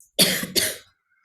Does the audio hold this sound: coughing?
yes